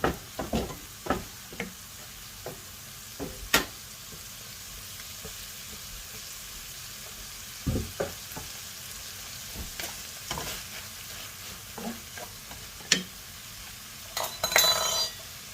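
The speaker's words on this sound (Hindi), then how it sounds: "चाइनीज रोषे कला टिके आंचटा अधिक रखिबे, हाई फ्लेम।" Chinese-style fried rice with green peas stir-fried in a pan over a high flame: a steady sizzle broken by repeated scraping stir strokes and occasional utensil clinks against the pan, close and with no talk.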